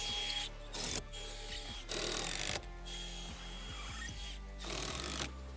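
A power drill whirs in several short bursts, pre-drilling wood for a kids' playhouse frame, motor pitch rising and falling between pauses, close by with no talking.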